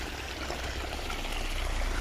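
Irrigation water gushes steadily from a tap outlet into a sugarcane field, a continuous, fairly loud rushing stream with no pauses or voices.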